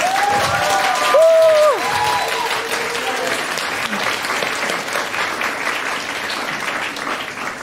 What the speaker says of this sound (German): Von daher einen großen Applaus für die erste Gruppe,